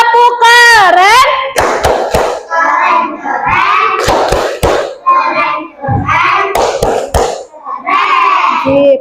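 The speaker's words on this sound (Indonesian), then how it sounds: "Kasih tepuk keren." Third-grade classroom children doing a rhythmic group clap chant, sharp synchronized claps in short bursts mixed with loud sung and shouted children's voices close to the microphone.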